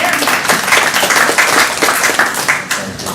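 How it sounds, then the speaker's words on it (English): An audience at a public school discussion applauds, giving a dense, even burst of clapping that holds fairly loud for a few seconds and then thins out toward the end. "Can I have a round of applause for that?"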